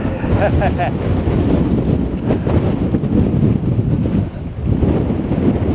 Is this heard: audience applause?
no